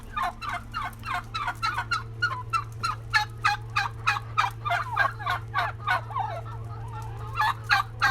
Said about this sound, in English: One of our turkeys there